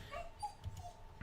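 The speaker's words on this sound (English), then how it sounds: "There come the dogs." Dogs arriving as a sound effect in an Arkham Horror game: faint whimpers and yips at a low level, repeated in short bursts.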